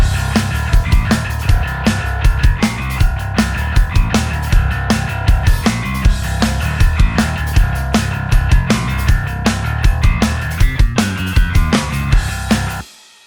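Heavy, compressed metal split-bass tone made with the bx_subfilter plugin, driving alongside pounding drums, loud and dense with steady kick hits, cutting off sharply at the end.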